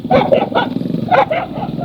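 Dogs bark close by in a quick series of about half a dozen loud barks across a couple of seconds.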